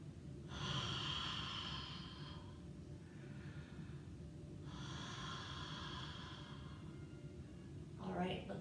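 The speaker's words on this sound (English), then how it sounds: "Just 2 rounds of breath." Two long, deep breaths taken during a yoga stretch, each inhale-exhale lasting a couple of seconds with a pause between, close and fairly steady, with a short sniff at the end.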